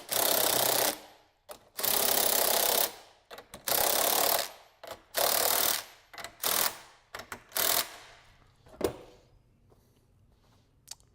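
A ratchet tightens lock nuts on a rectangular trampoline frame, with several loud bursts of rapid clicking separated by short pauses, then fewer, shorter strokes and single clicks toward the end.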